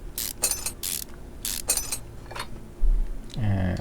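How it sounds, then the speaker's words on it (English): A brake caliper being removed in the video game Car Mechanic Simulator 2021: a run of crisp mechanical ratcheting and metallic clicks in short bursts, followed by a lower clunk at the end. "let's remove the caliper"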